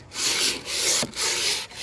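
Rough, rhythmic scraping of a sanding block rubbed back and forth over wood sash profiles, three long close strokes with brief pauses between.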